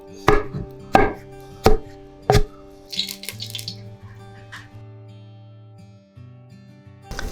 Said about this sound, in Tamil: ஒவ்வொரு மூலிகையாக நம்ம இப்படி போட்டு இடிச்சு எடுக்கணும்